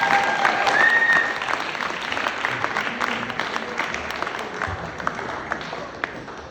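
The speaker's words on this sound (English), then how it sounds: "can we just get a round of applause for the amazing job he did today" A family audience gives a round of applause for the Bar Mitzvah boy, many hands clapping steadily and fairly close, holding strong and then easing slightly toward the end.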